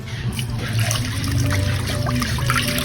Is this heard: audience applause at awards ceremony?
no